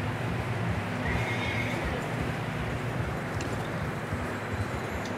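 A horse in the video game Red Dead Redemption 2 whinnies while walking on a road, heard over a steady rumbling background noise for several seconds.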